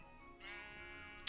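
A sheep bleats in the Minecraft video game with the Pixelmon mod, a single faint wavering bleat set back in the game audio, ending in a short sharp click.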